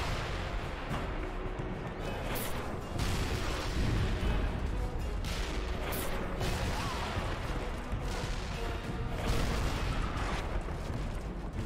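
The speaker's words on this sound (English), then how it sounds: "The world's most rapid-firing cannon in the world" Rapid, booming cannon fire in Call of Juarez: Bound in Blood, a dense continuous barrage of blasts with sharper bursts every few seconds.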